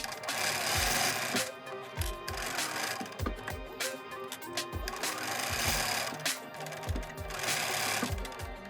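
Domestic sewing machine stitching through thick sherpa fabric for a bucket hat, a steady loud motor whir with rapid needle thumps that run in several bursts and short pauses.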